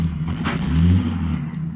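A radio drama sound effect of a car engine driving off, a short low rumbling engine swell that rises briefly then settles, fairly loud and close, with no talk over it.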